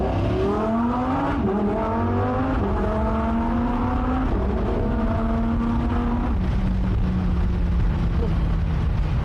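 A Lamborghini drives past on a street, its engine note rising and falling through shifting revs as it goes by, loud and continuous, with people talking over it.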